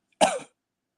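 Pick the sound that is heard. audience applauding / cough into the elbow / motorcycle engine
cough into the elbow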